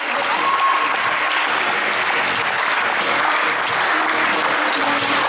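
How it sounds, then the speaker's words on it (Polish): Sustained audience applause fills the hall at a pre-season team presentation for Effector Kielce, a dense steady clapping from a large crowd lasting throughout. "Jeszcze raz wielkie brawa, Efektor Kielce, moi drodzy."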